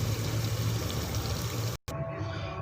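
Thick Multani mutton palak gosht being poured from the cooking pot into a serving dish, a steady wet pouring and sliding sound that breaks off briefly near the end, then resumes more softly.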